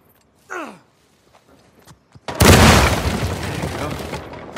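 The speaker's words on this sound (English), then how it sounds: "Hopefully we just blend in with the other explosions." A loud explosion in the Uncharted 4 video game blows open a door, a sudden close blast that rolls into a long rumbling decay, after a character's sigh and a few faint footsteps.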